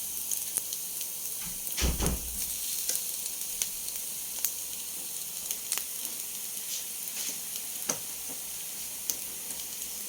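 A burger patty frying in a pan with garlic and onion, making a soft continuous sizzle with scattered crackles and one brief louder clatter near the start.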